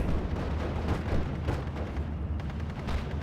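Dense combat in Steel Division 44, with a Puma armoured car firing its cannon and machine guns amid continuous booming battle noise, loud and rumbling throughout.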